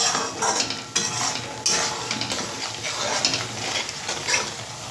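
Spice mixture with salt being stirred and fried in oil for a Bengali brinjal bora dish, a steady close sizzle broken by scraping stirs.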